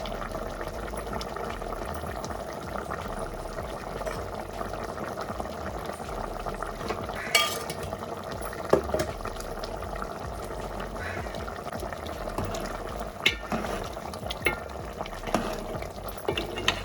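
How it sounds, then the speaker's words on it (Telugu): Chukkakura chicken curry with garam masala simmering in a pan, a steady low bubbling and sizzle with occasional utensil clinks and stirring, faint talk at moments. "ఒక 5 నిమిషాలు ఉడికించుకుందాం"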